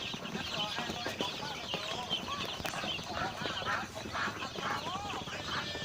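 A flock of about 160 Roman Brown laying hens and black chickens clucks and chatters steadily throughout, close by, with scattered louder squawks and some background farmyard noise.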